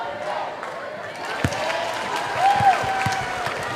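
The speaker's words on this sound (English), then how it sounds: "The Duke faithful that made the trip over gave her a little round of applause." A crowd's light, scattered applause rises and fades, with distant voices murmuring over a steady arena din at a Duke vs North Carolina college basketball game.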